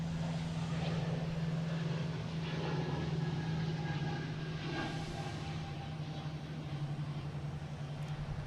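An Air Canada airliner departs Boston Logan International Airport for Toronto, giving a faint, distant engine drone with a steady low hum throughout.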